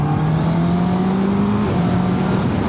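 A 2025 Honda CB650R with E-clutch runs steadily in third gear heading into a chicane, its engine a loud, continuous drone with a slight rising pitch, close up and without talk.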